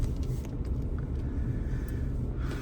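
Car rolling slowly past roadworks on a city street, a steady low engine and tyre rumble close by with faint distant noise above.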